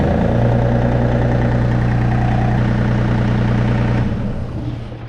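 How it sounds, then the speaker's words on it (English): A John Deere 3025 tractor engine idles in a steady low rumble, loud and close, then cuts off and fades near the end. "now we try to start the tractor."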